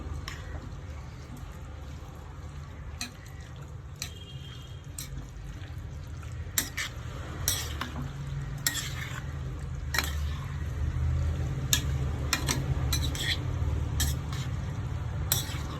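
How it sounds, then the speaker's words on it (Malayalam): A spoon scrapes and clinks as mango pickle made with fenugreek is stirred in a pan, with scattered taps over a low background hum and some quiet talk. "മാങ്ങയിട്ടൊന്ന് ഇളക്കി കൊടുക്കാം നന്നായിട്ട്."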